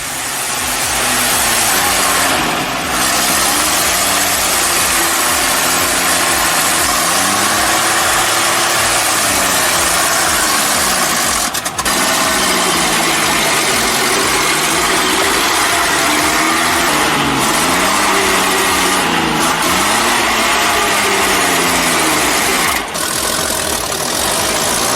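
A 1965 truck with a 6-cylinder 5,500cc gasoline engine runs loudly and close, its throttle rising and falling in repeated surges over a rough, continuous engine drone.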